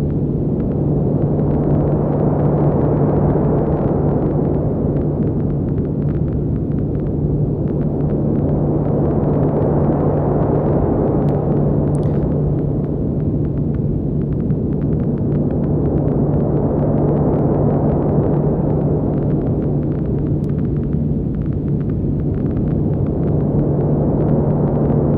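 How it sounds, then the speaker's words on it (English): A steady, droning synth texture sent through a hybrid reverb with the low end cut, swelling and receding in slow waves over a constant hum, continuous and without any voices. "I'm gonna go into the hybrid reverb and cut out some lows."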